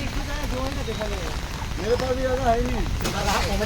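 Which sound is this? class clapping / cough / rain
rain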